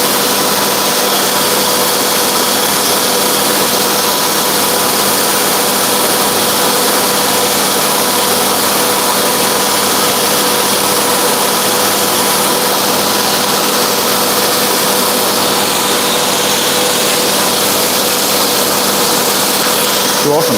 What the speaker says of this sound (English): Freehand grinding is fiddly that's really the pain in the butt